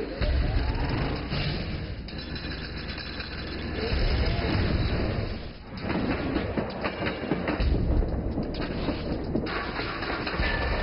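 A loaded coal freight train at Qinhuangdao rumbles steadily on the rails, with a continuous dense roar, faint clickety-clack and occasional metallic squeal throughout.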